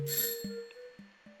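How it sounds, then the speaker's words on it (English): A doorbell in the video game Demetrios gives a bright, ringing chime that decays, followed by a few short, soft tonal blips spaced apart, all clean and close with no talking. "That should make her happy since I rang the doorbell."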